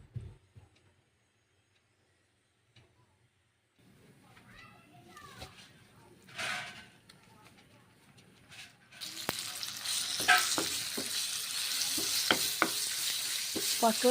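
Oil sizzles steadily as pointed gourd paste hits hot oil with onion and poppy seed, with stirring clatter and scraping, quiet at first then loud and continuous in the second half.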